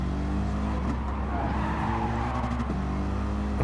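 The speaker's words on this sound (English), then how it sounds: "just over revving the car, kicking the back end out" Race car engine over-revved hard in Gran Turismo Sport, a continuous loud high-pitched roar with shifting revs and tire scrubbing as the back end steps out, sustained throughout.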